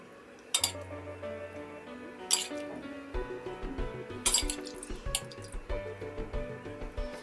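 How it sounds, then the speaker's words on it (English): A spoonful of meat broth is added to hollowed green zucchini stuffed with meat kebab in an oven tray, with soft drips and pours broken up by a few bright clinks of the spoon against the dish. "Add 1 spoon of meat water into the zucchini."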